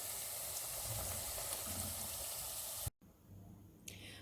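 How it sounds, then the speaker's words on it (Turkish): A steady, dense sizzle of paçanga börek pastries frying in hot oil fills most of the clip, then cuts off abruptly into quieter background noise. "şimdi böreklerimi e, ekliyorum böreklerimi kızartacağım bu şekilde"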